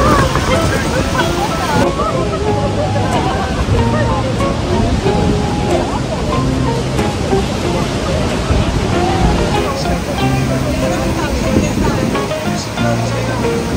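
Heavy water thunders down at Niagara Falls as a loud, continuous roar with wind buffeting the microphone throughout.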